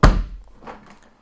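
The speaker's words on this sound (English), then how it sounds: "You're hearing fake money in my hand." A stack of fake hundred-dollar bills is slapped into a hand, making one dull, close thump that fades quickly, followed by faint handling rustle.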